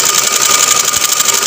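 A sewing machine stitching a shirt neckband runs as a steady, close mechanical whir through the whole moment, with no pauses and no talking.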